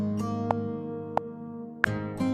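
Metronome clicking at an even beat, sharp distinct ticks cutting through a sustained guitar arrangement playing underneath.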